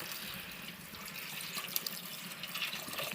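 Water pours steadily into a pot of brinjal and mango sambar, a soft continuous splashing stream at close range, faint and with no talking.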